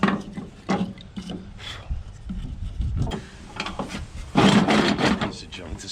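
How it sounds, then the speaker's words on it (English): A cheap bandsaw cutting wood in a boatyard where a wooden Tahiti gaff cutter is being built, giving rough, uneven rasping bursts that rise and fall with a louder stretch near the end, with some speech over it. "Piece of junk this bandsaw is."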